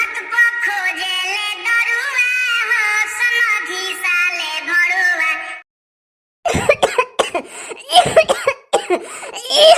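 A person coughs and clears their throat in several harsh bursts following a stretch of women singing, with laughter mixed in during a village get-together.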